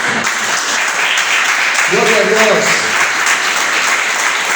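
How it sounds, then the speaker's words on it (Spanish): A church congregation applauds, a sustained, even roar of many hands clapping throughout, with a voice calling out over it partway through. "¿Cuánto le dan un aplauso a Jesucristo?"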